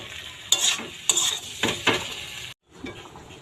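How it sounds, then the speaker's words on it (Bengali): Boiled potatoes stirred and fried in a pan: a steady sizzle with four scraping stir strokes of a utensil against the pan, a brief pause, then the frying resumes. "দিয়ে আলুটাকে ভাজলাম ভালো করে।"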